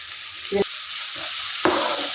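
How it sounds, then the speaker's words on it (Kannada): Vegetables including tomato and cabbage fry in a pan for a veg roll, giving a steady hiss broken by a few short scrapes and stirring knocks. "ಈಗ ತರಕಾರಿ ಚೆನ್ನಾಗಿ ಫ್ರೈ ಆಗೋಕ್ಕೆ ಬಿಡೋಣ"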